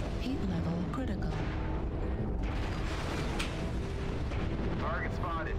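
Artillery strike in MechWarrior Online landing as a run of deep rumbling booms and blasts over mechanical whirring, with game voice callouts heard alongside.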